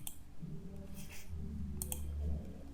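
A few crisp computer mouse clicks on an OK button in Word, short and close, with no talk over them.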